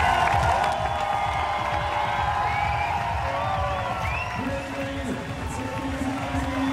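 Spectators at a triathlon world championship in Hamburg clap and cheer in a steady crowd wash, with an announcer talking loudly over the applause the whole time.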